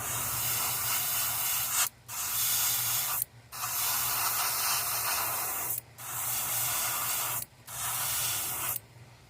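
An airbrush spraying paint over a stencil on a custom S crank, giving a close, steady hiss in long bursts of about one to two seconds, broken by four short pauses.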